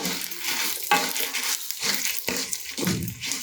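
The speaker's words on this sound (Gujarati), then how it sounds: "ધાણા એડ કર્યા પછી થોડું ચલાવીશું અને મસાલાની સરસ એવી શેકાવાની સુગંધ આવી રહી છે" Dried red chillies and whole coriander seeds roasting in a dry pan while being stirred, with close, repeated scraping and rattling strokes over a soft crackle.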